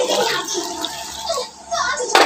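Hands are washed under running warm water, a close, continuous splashing and trickling with voices talking over it.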